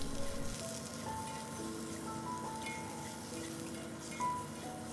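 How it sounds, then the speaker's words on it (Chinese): Shiitake mushrooms stir-fried over high heat in a little oil with shallots and ginger slices: a soft, steady sizzle with light tossing and clinking sounds, fairly faint and close. "之后落冬菇 ，keep 住大火翻炒几下"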